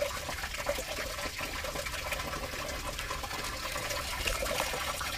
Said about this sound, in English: There's a hole in the ground here, and there's water. You hear the water running over there.